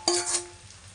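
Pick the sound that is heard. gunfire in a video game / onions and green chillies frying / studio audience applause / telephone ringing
onions and green chillies frying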